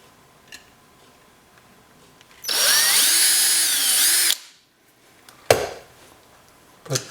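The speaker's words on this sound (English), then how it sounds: "And then I'm going to drill the hole for the screw." A power drill bores a screw hole for a piano hinge on a wooden jewelry box, one loud whining burst of about two seconds, followed by a few sharp clicks and knocks.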